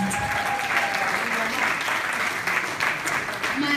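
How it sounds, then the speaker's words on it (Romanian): Audience applause at a school idol gala held at Transylvania College, a dense, steady clapping from a large crowd that continues evenly throughout without letting up. "Și chiar vă rog să-i aplaudați așa, să aplaudați."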